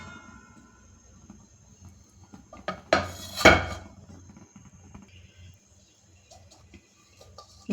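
A metal lid clanks onto a pan of cooking raw banana curry, two sharp close knocks in quick succession standing out from a quiet background of faint kitchen clatter.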